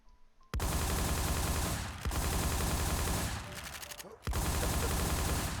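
Gunfire in a video game, loud dense bursts crackling almost nonstop with a couple of brief gaps between volleys, close and forceful.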